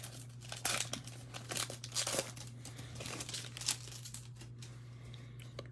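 A blaster box card pack wrapper is ripped open from the top, giving a soft crinkling, tearing rustle with a few sharper crackles over a steady low hum, fairly quiet and close.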